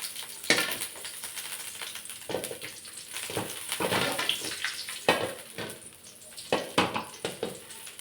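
Ghee sizzling in a frying pan while preparing a high-protein dry snack, a soft steady crackle with bursts of louder sizzle and occasional stirring or pan clinks, close and fairly quiet.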